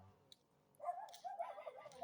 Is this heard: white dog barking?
yes